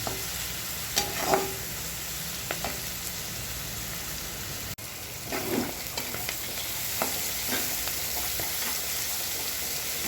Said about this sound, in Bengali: আধা চামচ মরিচের গুঁড়া দিয়ে দিলাম সুন্দর করে নেড়ে চেড়ে ভেজে নিচ্ছি